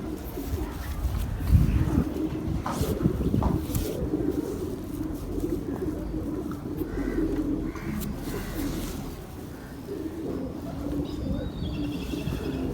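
Soft, low pigeon cooing repeats steadily against a busy background of other birds chirping, with faint talk mixed in at times.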